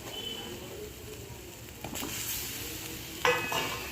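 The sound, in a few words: stirring and frying stuffed brinjals in masala curry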